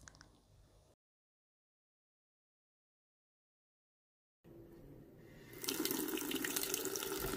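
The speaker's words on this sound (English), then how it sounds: "wash your hands" Water runs from a tap at a hospital sink for hand washing on a nurse's day shift, a steady hiss that starts after a gap of silence and grows louder and fuller partway through, with no talking.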